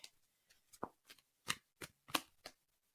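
Cards being shuffled in a series of quick, crisp riffles and taps, about eight separate bursts with short gaps, close and quiet.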